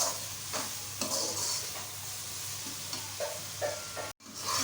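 Onion and tomato masala roasting in a pan, with a low continuous sizzle and soft scraping strokes of stirring, close and alone.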